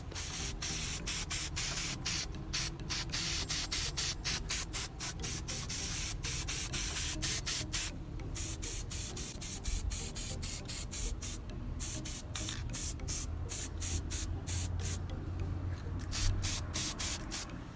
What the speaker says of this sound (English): so now they're all spray painted